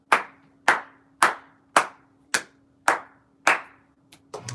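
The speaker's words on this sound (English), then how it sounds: "clap sync" Sharp, close hand claps ring out one after another, about seven evenly spaced strikes each with a short decaying tail over a faint steady hum, followed by a couple of softer, quicker knocks at the end.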